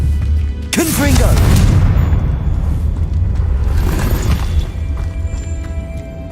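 A Confringo fire spell goes off in Hogwarts Legacy as a heavy booming burst with crackling debris, followed by a lingering rumble and a second, smaller blast.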